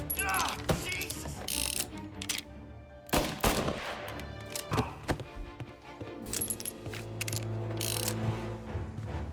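In Mafia Definitive Edition, a gun is reloaded in the middle of a gunfight, with mechanical clicks and ratcheting between loud gunshots. Mixed game sounds and a low hum surround the action.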